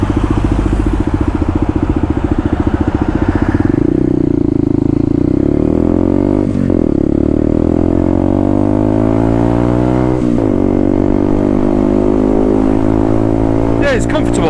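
A Herald Maverick 125cc motorcycle rides along with a loud, close engine note that rises and falls as it revs and shifts through gears, steady throughout. Wind rushes behind it.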